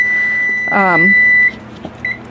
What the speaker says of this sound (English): that was the timer for my pork chops